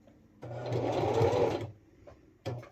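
Sewing machine stitching through thick layers of terry cloth, a close, steady whirring run of about a second followed by a short burst as it backstitches, with quiet pauses between.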